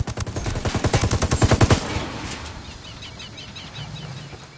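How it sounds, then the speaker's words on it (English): Gunfire in the tactical shooter Ghost Recon Wildlands: a fast rhythmic burst of automatic shots lasting under two seconds, loud and close, then fading into a low rumbling game ambience. "I'm shooting these fuckers."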